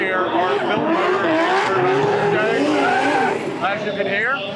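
A twin-turbo Toyota 3UZ V8 drift car with a built engine screams loudly at high revs up close at a Bangkok car meet, pitch wavering and climbing with tire squeal, continuous throughout.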